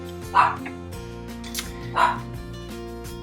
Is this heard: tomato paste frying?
no